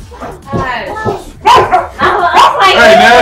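A pet dog barks in a few sharp, loud bursts indoors, overlapping with people talking nearby.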